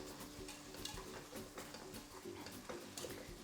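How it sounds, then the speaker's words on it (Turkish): A whisk stirs chicken broth soup rapidly against a metal pot, steady scraping strokes at low volume with a faint background hum. "Çırpma teliyle karıştırıyorum."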